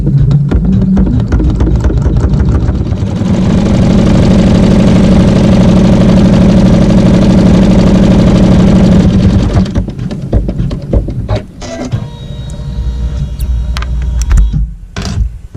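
An embroidery machine stitches a seam with a loud, rapid rhythmic needle chatter and motor hum that runs steadily, then slows into irregular clicks and thumps near the end.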